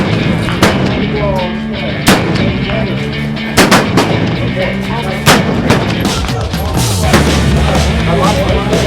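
Rifles, including Model 1874 Sharps, fire on a shooting range in a timed relay, with loud, close, irregularly spaced booming shots and further reports echoing through the background.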